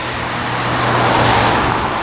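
Car traffic rolls past steadily on a rainy autumn street in Moscow's Miusy district, a close, loud, continuous roadway rumble with engine drone and tire hiss and no break.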